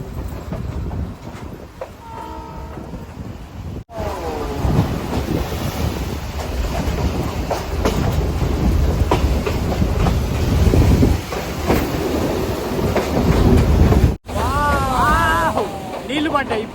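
A train runs right along the seashore in Sri Lanka, a steady loud rumble of wheels and carriages throughout, with a brief break near the middle and occasional people talking over it.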